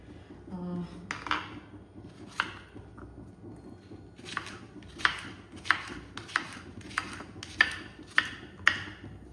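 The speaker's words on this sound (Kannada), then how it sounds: "ಇಲ್ಲಿ ಬೆಂಡೆಕಾಯಿಯನ್ನು ಕಟ್ ಮಾಡುವ ಕ್ರಾಸ್ ಕ್ರಾಸ್ ಬೆಂಡೆಕಾಯಿನ ಯಾವಾಗಲೂ ರೀತಿ ಕ್ರಾಸ್ ಕ್ರಾಸ್ ಆಗಿ ಕಟ್ ಮಾಡುವಂಥದ್ದು" A knife slices okra crosswise on a board, producing a steady series of sharp, close chopping taps spaced about half a second apart, with a faint kitchen background and no talking.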